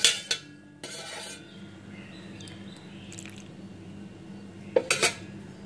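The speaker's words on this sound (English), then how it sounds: "Mix well." Ragi muffin batter being mixed with coconut oil in a bowl: a utensil clinks and scrapes against the bowl in short bursts at the start and end, over a steady low background hum.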